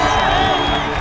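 An esports crowd at a League of Legends match roars in a loud, steady wave of cheering and whooping, with a voice speaking over it.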